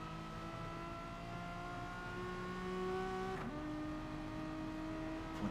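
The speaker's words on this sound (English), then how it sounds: "Hearing feathering that throttle through there" A race car engine, heard during a motorsport commentary race, holds a steady high tone with fluctuating revs. The pitch drops and rises as the throttle is feathered, close and continuous.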